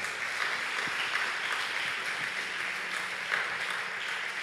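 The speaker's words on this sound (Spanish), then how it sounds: "Démosle ese aplauso a Jesús" A church congregation claps in steady, moderately loud applause during a sermon, a dense wash of hand claps lasting several seconds with faint voices underneath.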